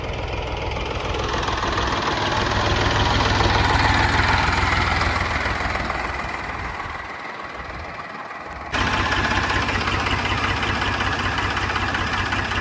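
A tractor diesel engine idles steadily and close by on a muddy farm, a rough, loud, continuous rumble that dips briefly before resuming at full strength.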